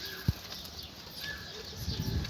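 A single quick burst of wing flapping from a large Mardin tumbler pigeon, close by, followed by soft rustling movement.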